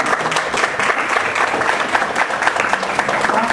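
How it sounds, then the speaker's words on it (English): An audience at a talk breaks into loud, dense applause, many hands clapping in a continuous close wash with no voices over it. "So let's give her a big round of applause."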